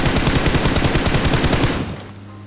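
Rapid automatic gunfire from the PUBG Mobile battle game, loud and dense bursts of machine-gun shots rattling continuously for about two seconds before cutting off.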